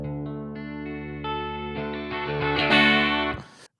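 Acoustic guitar in an open tuning with a capo, played close and alone: plucked notes ring out one after another, building into a sustained, shimmering chord with effects before cutting off abruptly.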